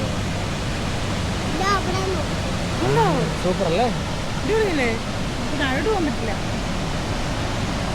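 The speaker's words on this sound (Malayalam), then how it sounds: "വാളറ വാട്ടർഫോൾസ്" Valara waterfalls in Kerala roar as a constant, broad rushing of water, with people talking over it.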